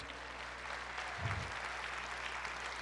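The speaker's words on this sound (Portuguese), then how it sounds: "Uma salva de palmas para o" A church congregation applauds steadily throughout, a dense wash of many hands clapping at moderate level, with a brief low thump partway through and no speech.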